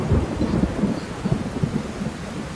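Rain falling with a low rumble of thunder, a steady wash of noise with deep rolling pulses throughout, no voices.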